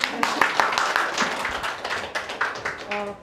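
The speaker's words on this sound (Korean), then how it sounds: "우리 원장님을 큰 박수로 한번 보실게요" Audience clapping for an academy director at an English education information session at a hagwon, a fairly modest burst of hand claps with a voice speaking over and after it.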